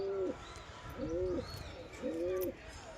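A male pigeon coos alone in three clear, evenly spaced calls, each a short rising-and-falling hoot, fairly close against quiet outdoor background.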